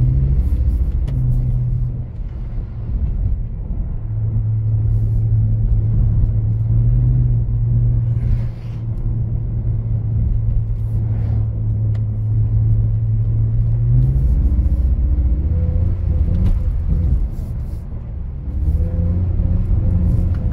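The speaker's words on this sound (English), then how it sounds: "Tried to hold the whole corner in a drift, but I couldn't, so here we are." A BMW drifts around an icy corner on a winter road, its engine a loud, steady droning rumble that holds one pitch for several seconds, then drops and rises again as the throttle shifts.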